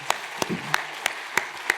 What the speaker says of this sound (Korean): 우리 선교팀 인사할 때 같이 박수로 크건 응원과 격려 박수 부탁합니다.